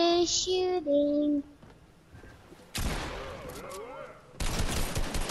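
Gunfire in the video game Fortnite: dense bursts of rapid shots fill the second half, with a short pause between two loud volleys, following a few electronic game tones.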